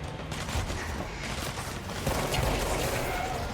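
Sniper gunfire in the game Control, dense rattling shots and crashes running continuously under a chaotic battle din, with a louder surge partway through.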